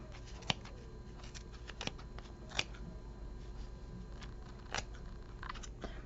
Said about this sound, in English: I'm just going to take in my scissors and cut it off of here